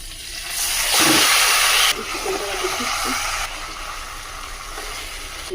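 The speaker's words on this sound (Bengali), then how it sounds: "এবার আমি তেলটা দিয়ে দিচ্ছি, জিরাটা দিলাম, চিনি দিয়ে দিচ্ছি, চিকেনটা দিয়ে দিলাম।" Chicken, cumin and sugar dropped into hot oil in a home kitchen pan, giving a loud, steady sizzle and hiss that surges at the start and then settles into a continuous crackling fry.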